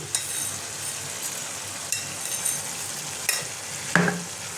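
Chicken keema with chickpeas, garam masala, Kashmiri chilli powder and sugar sautés in a pan, a steady close frying hiss broken by occasional spoon scrapes and stirring clicks.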